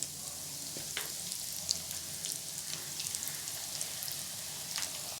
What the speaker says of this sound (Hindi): और अब हम बाकी बचे हुए बैंगन को भी जो है ना अच्छे से फ्राई कर लेंगे